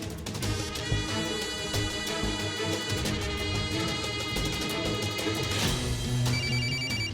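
A telephone rings in a Marathi TV drama scene, its bright repeated electronic bell tones sounding over a dense music score without any talking.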